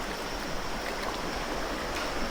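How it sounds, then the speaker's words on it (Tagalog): Water in a long river rushes and churns in a steady, loud, continuous wash, with no voices over it. "napakahaba ng ilog na to. Hindi ko lang alam kung saan yung pinaka main ng tubig, kung saan umaagos"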